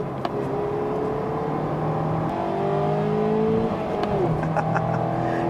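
A 2016 fourth-generation Mazda MX-5 engine revs steadily from inside the car, pitch climbing and settling in smooth sweeps across several seconds with no talking.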